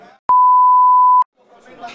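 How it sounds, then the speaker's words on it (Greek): A single steady censor bleep, added in editing to footage of the Ignite Games '24 team competition, sounds loud and pure for about a second, cutting off speech. Faint talk resumes afterward. "Βάλε μπιπ."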